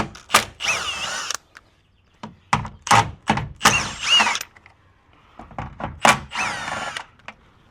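A power tool zips 10 mm bolts off a Subaru bumper in several short, close bursts of whirring and ratcheting, with brief pauses between them.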